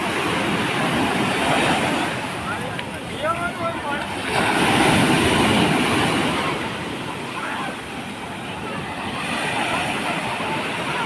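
Sea waves roll and wash in a steady, loud roar at Nishkalank Mahadev temple, swelling and easing every few seconds, with wind noise against the microphone.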